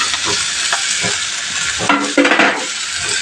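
Green mango and curry leaves sizzle and fry in a pan for chutney, a loud steady crackle with a spoon stirring and scraping through it close up.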